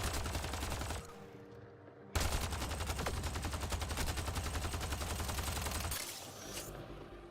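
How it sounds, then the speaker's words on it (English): Rapid submachine-gun fire from a video game squad shooter, loud and close, with a dense burst, a short lull, then another long sustained stream of rattling shots. "I guess we're just using the SMG."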